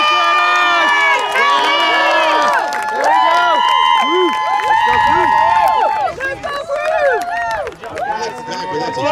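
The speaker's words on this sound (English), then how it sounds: "Give them a big round of applause." Crowd at a Texas six-man football championship cheers, shouts and claps for the winning team, with excited children's yells and whistling voices layered over continuous applause, loud and close, dipping briefly before rising again.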